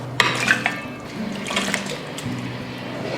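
Boiled pork trotters rinsed clean in water, with running and splashing water and light clinks of a pot or bowl, close and continuous for a few seconds.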